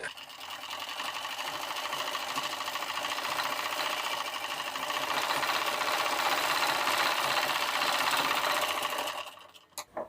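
A sewing machine stitches the hem of a blouse sleeve in a steady, fast mechanical whir, close and continuous for about nine seconds before stopping abruptly with a couple of short clicks.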